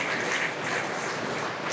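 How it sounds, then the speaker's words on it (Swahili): Steady crowd applause at a Mzumbe University gathering in Tanzania for the vice chancellor, dense and continuous clapping filling the hall for under two seconds with no voices over it. "Tumpigie Makamu Mkuu wa Chuo makofi mengi"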